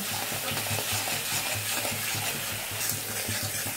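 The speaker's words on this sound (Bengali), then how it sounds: "কন্টিনিউ নাড়িয়ে যেতে হবে যেন মশলাটা একটুকু যেন মানে ধরে না যায়" A Bengali spice paste for rui fish rosha is stirred and fried in a pan on a very low flame, giving a steady close sizzle with repeated soft scraping stir strokes and no talking.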